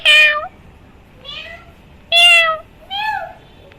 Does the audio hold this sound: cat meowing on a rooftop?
yes